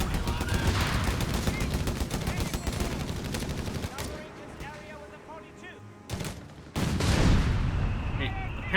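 Artillery shells firing and landing across a Company of Heroes 3 battlefield, dense rolling gunfire and distant thuds with scattered booms, loud throughout, rising again near the end, with a voice talking over it.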